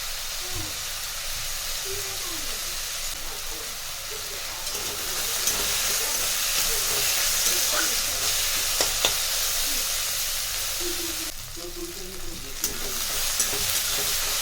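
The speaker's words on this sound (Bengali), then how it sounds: "আমি মাশরুমটা এতেই ভাজা করব" Onions fry in a pan for a mushroom matar curry, a steady close sizzle and hiss with occasional stirring scrapes, swelling louder midway, under faint talk.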